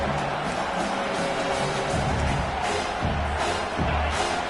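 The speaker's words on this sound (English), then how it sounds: "this crowd coming to life here, trying to help the defense get a stop" Broad roar of a stadium crowd swelling and cheering in a football video game, a loud continuous wash of noise with a few low thuds within it.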